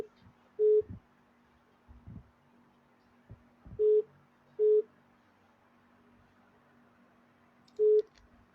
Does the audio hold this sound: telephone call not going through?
yes